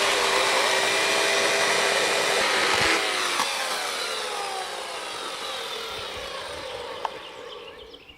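A Husqvarna chainsaw with a long bar cuts through a big round of wood, a loud steady motor whine running throughout, its pitch falling slowly as the cut deepens, with a sharp knock near the end.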